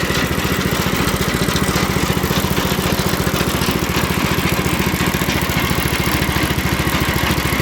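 A small pull-start engine runs steadily at a fast, even idle, its rapid putter loud and close with a constant buzzing, rattling drone and no talk.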